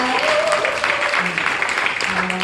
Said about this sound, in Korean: 환영한다는 의미로 박수 한번 치고 시작할게요.